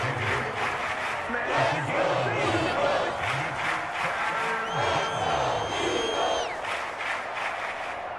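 Football stadium crowd in an Eagles vs Bills game cheers and roars ahead of a big third down, a broad, swelling wash of voices under a commentator's talk.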